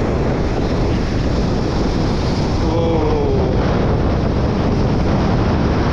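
Strong wind roars across the microphone while Black Sea storm surf crashes steadily underneath on a Crimean embankment and beach, a loud continuous rush with no clear breaks.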